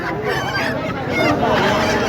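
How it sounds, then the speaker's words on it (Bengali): Native ducks and chickens crowded together at a village market on a Jamuna river char in Nagarpur, Tangail, loud close honking and quacking calls that overlap continuously, with some nearby talk underneath. "এখানে প্রচুর হাঁস মুরগি উঠেছে দেশি হাঁস মুরগি একেবারেই ভরপুর"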